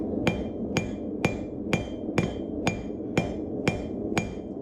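A blacksmith's hammer strikes hot metal nine times while forging a leaf, in a steady, even rhythm, each blow a sharp ringing clang, close and loud.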